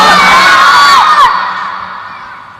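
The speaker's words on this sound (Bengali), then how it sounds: "চিৎকার মেরে বলবেন আল্লাহ আকবার" A crowd at a Bengali religious sermon gathering lets out one loud, unified shout of Allahu Akbar, lasting about a second before fading into a tailing echo.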